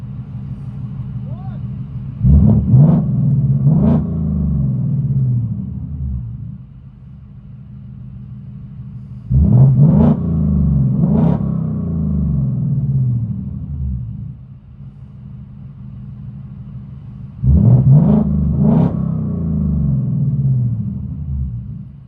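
Inside a 2024 Ford Mustang GT with a 5.0L Coyote V8, Roush H-pipe and straight pipes, three loud revs burst out at even intervals, each dropping back to a deep, rumbling idle between them.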